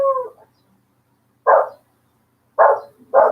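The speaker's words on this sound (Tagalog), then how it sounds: "Sumigaw yung ating may alaga kaming aso rito eh" A pet dog barks three times in short, sharp bursts spaced about a second apart, loud and close, with a brief whine at the very start.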